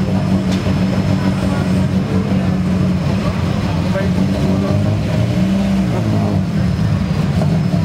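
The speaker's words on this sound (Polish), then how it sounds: "dwulitrowy silnik." Two-litre BMW 318is rally car of class K5 at a rally event, its engine droning and revving steadily and loudly throughout, with a voice talking over it.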